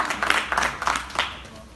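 Short burst of audience clapping for a producer at a stage show, a few seconds of scattered hand claps fading out, fairly close and moderately loud.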